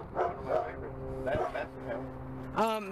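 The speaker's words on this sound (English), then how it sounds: "What kind? Miniature beagles." Miniature beagle dogs bark and yip at a distance in short, scattered bursts, partly masked by a steady engine hum, with a louder whining yelp at the end.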